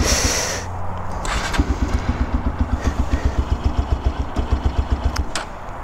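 A carbureted motorcycle engine with a choke, stored in a dusty storage unit, cranks and catches, then idles in a close, loud, steady rapid thumping rhythm before the beat drops away near the end.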